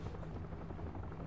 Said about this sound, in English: You can also hear a helicopter